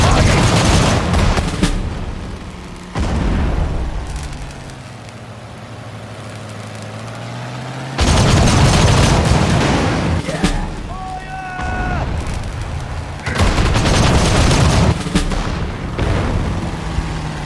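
Battle of the Bulge combat in the World War II strategy game Sudden Strike 4, with loud bursts of gunfire and booming blasts over rumbling engine noise, broken by brief quieter stretches and short radio-style voice lines.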